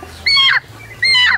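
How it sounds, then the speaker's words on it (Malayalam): A sick chicken with yellowish comb and wattles gives two short, strained clucking calls about half a second apart, close and fairly loud over a low background hum. "ഇവിടെ ഒരു ഡിസീസ്ഡ് അസുഖം പിടിച്ച കോഴീനെയാണ് ഇപ്പോൾ കാണിക്കുന്നത്"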